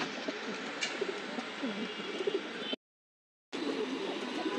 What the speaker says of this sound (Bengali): এখানে কিছু নর কবুতর রাখা আছে।